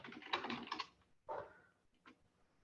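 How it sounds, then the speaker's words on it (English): Typing on a computer keyboard during an online specifications meeting, a quick flurry of key clicks followed by a few scattered keystrokes, close and fairly quiet. "Someone else typing."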